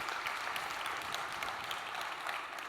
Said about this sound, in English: please, a round of applause and thank our panel for their participation today